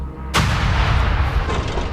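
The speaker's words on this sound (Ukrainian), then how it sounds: "Откат нормальний! Гармата!" A single loud artillery blast booms up close, followed by a long rumbling roar that slowly fades.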